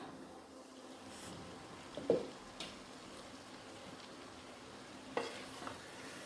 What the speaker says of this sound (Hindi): तो हमने अच्छा सा मिक्स किया।